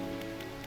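Steady patter of rain in the fishing game Dredge, a soft even hiss of drops on a surface with a low ambient hum beneath, continuous and fairly quiet.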